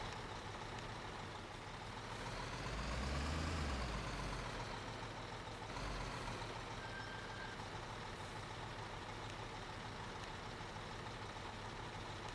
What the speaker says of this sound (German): Das ist wahrscheinlich Bagger, gell?